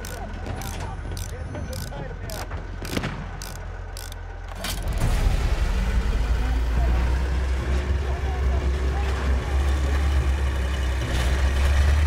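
A tank in Battlefield 1 rumbles with a deep, continuous engine drone and grinding mechanical track clatter that grows louder midway, preceded by sharp rhythmic ticks and gunfire-like bursts over game noise.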